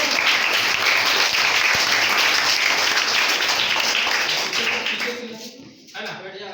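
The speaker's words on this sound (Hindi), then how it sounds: "ताली मारो।" A class of students claps together in sustained, dense applause that fills most of the stretch, then thins out near the end as a teacher's voice comes in.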